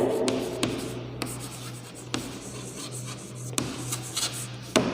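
A pen or marker writing out a number by hand on a surface, steady scratchy rubbing strokes with a few sharper taps, close and fairly quiet over a low steady hum.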